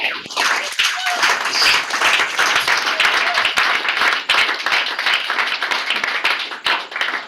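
A church congregation at an evangelisation and restoration ministry service in Essos, Yaoundé, breaks into loud, dense applause that rattles on steadily for several seconds, with some voices mixed in.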